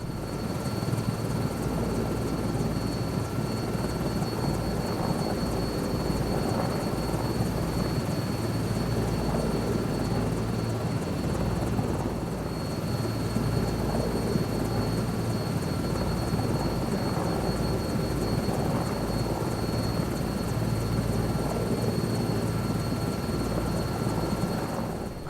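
A helicopter in Microsoft Flight Simulator 2024 drones steadily, its engine whine and rotor wash forming a constant dense roar with a high turbine tone on top, with no voices at any point.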